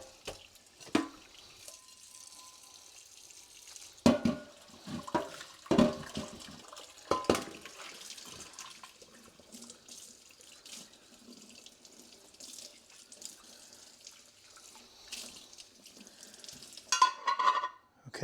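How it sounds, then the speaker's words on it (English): A kitchen tap runs while rusty cast iron pans are scrubbed in a sink, with water splashing and clattering in uneven bursts, louder knocks around the middle and end, and no talking. "So we'll go ahead and wash these off."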